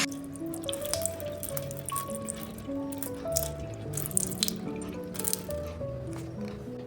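Water pours and drips onto puppets' heads in a Bengali puppet show, wet splashing trickles running steadily beneath a bed of tonal background music, with no voices.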